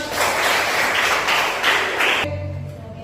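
A classroom group claps together in a brief burst of applause, fairly close, fading out abruptly after about two seconds.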